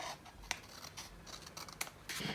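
Scissors trim the edge of paper for a scrapbook page, giving close, quiet snips and a soft slicing rasp across a couple of seconds.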